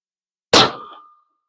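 A rifle bullet striking a steel target 300 yards away, heard as a single sharp metallic clang that rings out briefly in isolation, with no voices.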